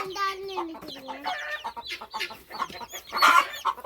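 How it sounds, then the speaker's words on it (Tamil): A hen clucks close by among newly hatched chicks, whose high, thin peeps overlap her low calls in a busy, irregular chorus, with a voice briefly heard. "குஞ்சு பொறிச்சிருக்கு மேல இருக்குது"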